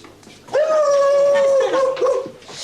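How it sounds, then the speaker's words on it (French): A dog whimpers close up in one long, high, drawn-out whine that wavers and breaks near the end, heard alone without talk. "Ça va coucher ton chien pourri"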